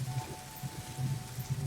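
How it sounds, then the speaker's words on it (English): Rain patters on surfaces in the space exploration video game No Man's Sky, a quiet, steady hiss with soft low thumps and a faint hum underneath, without any speech. "It's raining?"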